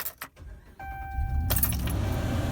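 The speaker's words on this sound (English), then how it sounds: "And then you'll need to start the car up." Keys jangle and a short chime rings inside a car before the engine cranks and catches into a steady close idle, ahead of an A/C refrigerant recharge.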